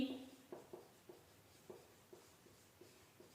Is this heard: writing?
yes